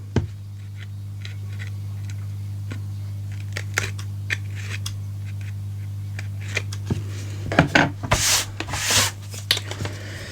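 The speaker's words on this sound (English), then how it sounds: "I'm just going to trim off that little bit of fuzz" A craft blade trimming a small bit of paper fuzz while making folded paper pockets: faint scattered scraping and cutting strokes over a steady low hum, then a louder burst of rustling rubs near the end.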